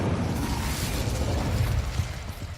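An Incendio fire spell in a video game whooshes and crackles as a steady, moderately loud rush of flame-like noise lasting a couple of seconds.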